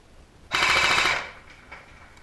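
An Echo1 airsoft gun fires a rapid full-auto burst of about half a second during a rate-of-fire test, a sharp buzzing rattle of shots close up. Quieter mechanical clicks follow.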